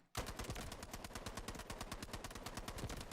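An automatic gun in the video game Delta Force fires a rapid, unbroken burst of evenly spaced shots for about three seconds, loud and close, with no talking.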